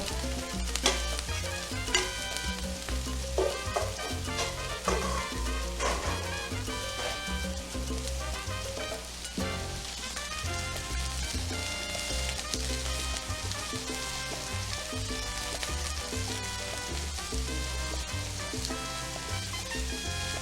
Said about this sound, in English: Then we start our bell peppers on it.